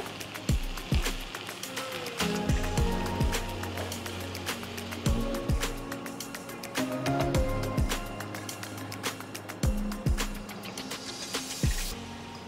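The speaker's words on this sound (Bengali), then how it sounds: "ব্যাস, এবার দেব জল।" Water pours into a pot of chicken pulao as a steady, splashy rush close by, with scattered clicks and knocks over it and no voices.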